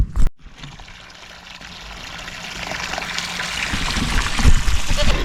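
Water pouring into a goats' water bucket on a farm, a steady splashing trickle that grows fuller and louder as the bucket fills, close by.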